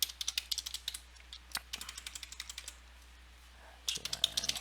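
Fingers type on a computer keyboard in quick, irregular bursts of crisp key clicks, pausing for about a second before a final flurry of keystrokes.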